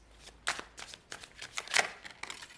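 Tarot cards being shuffled by hand during a pick-a-card reading, a series of quick riffling and sliding bursts at close range with no talking.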